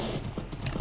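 A horse in the video game Minecraft, its hooves clip-clopping in a quick, brief run of soft thuds at close range.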